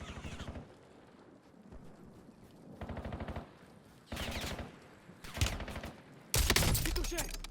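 Bursts of automatic gunfire from the video game Warzone come in short separated volleys, growing louder and harsher toward the end, with quiet gaps between them.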